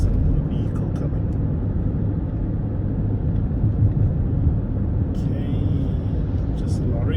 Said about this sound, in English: Okay, just a lorry.